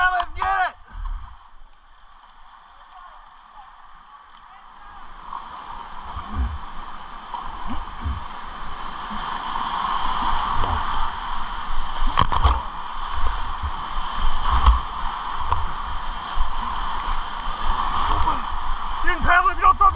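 A boat is paddled down a river during the Waterton Down and Up Race, with water rushing and gurgling nearby, intermittent splashes and knocks, while people talk and shout over it.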